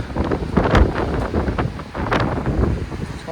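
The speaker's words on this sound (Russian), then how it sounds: "Ветер усилился, достаточно сильный ветер, я вам скажу." Strong gusting wind at the seaside in Lazarevskoye during rainy winter weather, roaring and buffeting the microphone in continuous surges, with surf-like rumble underneath and no speech.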